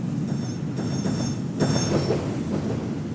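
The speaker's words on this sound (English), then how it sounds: "Especially with this Amtrak electric locomotive" Amtrak electric locomotive in the railway game Rails Unlimited, rolling along with a continuous rumble, rhythmic wheel clatter and thin high squeals, close and steady with no speech.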